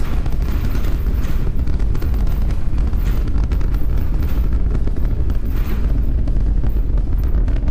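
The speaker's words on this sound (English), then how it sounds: "33 out of 33 Raptor engines lit on the Super Heavy booster, arcing away from us here at Starbase" A SpaceX Starship Super Heavy booster with all 33 Raptor engines lit climbs away from Starbase, a continuous broad roar with crackle and wind buffeting, steady and loud throughout.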